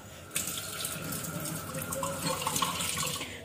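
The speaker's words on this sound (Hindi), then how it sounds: "पानी डाल दो" Water runs steadily from a kitchen tap in a home being cleaned, starting abruptly and then pouring as a continuous broadband splash at moderate volume, with no voices.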